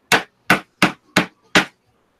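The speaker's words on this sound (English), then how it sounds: "I guess it does come off if you hit it hard enough with a hammer" A hammer strikes a 3D printed part five times in an even rhythm, each blow a sharp, loud, close knock with brief silence between, no voices.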